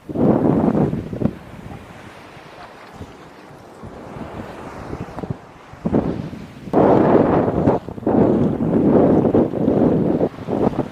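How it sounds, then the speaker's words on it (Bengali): Ocean waves surge and wash ashore at Shark Point in the Maldives, with loud rushing bursts separated by quieter stretches and heavy wind buffeting the microphone. "পানি তো সুন্দরই তবে ঢেউগুলো আরও অনেক সুন্দর"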